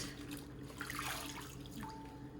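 Water runs from a kitchen tap as kale leaves are rinsed, a soft steady splashing with faint drips, close and without talk.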